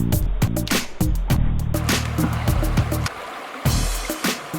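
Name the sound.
shallow river stream flowing over rocks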